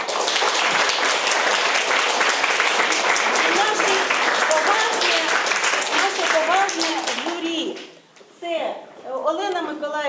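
Enthusiastic audience applause at a composers' competition, dense sustained clapping from a large hall crowd for about eight seconds, then fading as a voice begins speaking.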